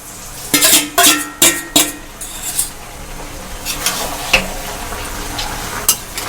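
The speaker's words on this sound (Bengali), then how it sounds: "এবার ভালো করে মেশানোর পালা" A spoon scrapes and clanks through cabbage, potatoes and spices with a fried fish head in a pan, several sharp metallic strikes early, then softer scraping and a light sizzle.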